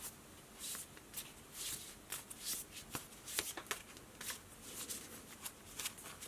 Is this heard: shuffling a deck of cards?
yes